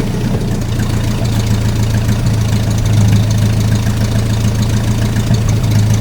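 A Datsun car engine idles steadily, a low droning hum with a constant mid-low tone and faint knocking texture throughout, close and alone with no talk.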